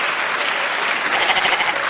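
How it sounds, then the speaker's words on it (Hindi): A crowd at a comedy stage show claps to welcome a teacher onstage, a brief burst of dense, loud applause with no talking over it. "तो जोरदार तालियों के साथ स्वागत करें"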